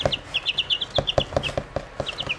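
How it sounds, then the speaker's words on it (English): Baby chicks kept inside a house make high, rapid peeps in short bursts. Soft pecking taps and light scuffles sit close underneath them, with no talking. "Update on our baby chicks that are in the house."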